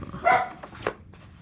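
A single dog bark close by, then a second, softer bark a moment later, over a low room background with no talking.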